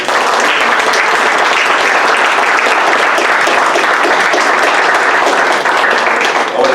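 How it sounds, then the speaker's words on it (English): A crowd applauding candidates at a League of Women Voters monthly program on presidential primaries; loud, continuous, close clapping from many people sustained throughout. "can we get a big round of applause for all our candidates?"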